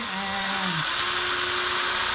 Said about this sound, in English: So I'm going to go ahead and just drill this in.